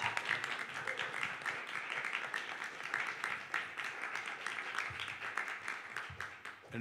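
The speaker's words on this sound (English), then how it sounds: "another applause for all of you for being here." Audience applauding the jury at the final of the ASI Best Sommelier of Asia & Oceania 2022, a steady wash of clapping at moderate level that carries on for several seconds, with a few low thumps near the end.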